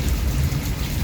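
Rain falls steadily outdoors, a dense, even hiss of drops with no pauses, loud and close, with nothing else standing out.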